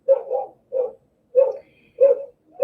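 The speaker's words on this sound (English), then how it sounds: "Just excuse my dogs barking." Several dogs barking at home in short, mid-pitched bursts, five or so loud, close barks spaced roughly half a second apart with silence between them.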